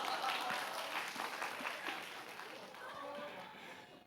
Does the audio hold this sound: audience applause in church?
yes